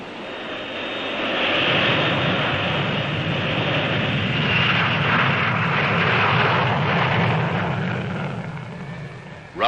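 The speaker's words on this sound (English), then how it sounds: "Russian bombers still operate from the Cairo West airfield." Russian bomber aircraft at the Cairo West airfield in Egypt: a broad, sustained engine roar swells, holds steady for several seconds, and fades slightly at the end.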